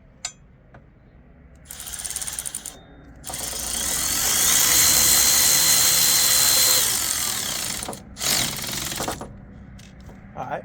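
A power tool drives down a car battery hold-down, with short bursts of whirring followed by a sustained loud grinding run lasting several seconds, then a couple of brief pulses and clicks, close up with no talking.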